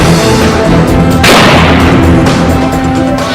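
Pistols and double-barrel guns fired nonstop at a wedding celebration in Motihari: very loud, distorted crowd-scene noise with a heavy blast near the middle and repeated booming shots throughout.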